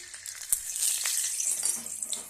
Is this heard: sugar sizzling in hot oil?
yes